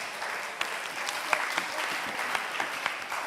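An audience at a banking and ethics challenge claps for a competing team, a steady patter of applause with a few sharper individual claps standing out, moderately loud throughout.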